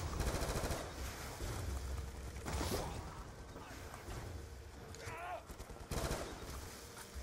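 Gunfire in the Call of Duty Zombies Origins map, heard as fairly faint bursts of rapid shots and impacts layered over game ambience.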